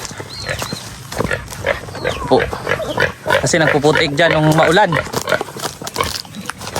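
A pig grunts and squeals in a rough, drawn-out burst while a person talks over it nearby.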